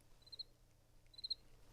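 A single cricket chirps twice in quiet surroundings, two short, high, trilled bursts about a second apart, faint and distant over a low background hum.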